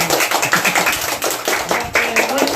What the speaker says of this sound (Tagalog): Palakpak naman yun.